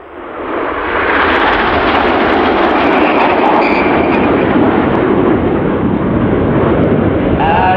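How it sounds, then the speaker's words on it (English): Jet aircraft flying in tight Apollo formation at an airshow, a broad roaring rush that swells in from quiet and holds loud and steady, with commentary voices partly audible beneath. "to your front now in Apollo formation, the aircraft only 6 to 8 feet apart for the short Apollo bend"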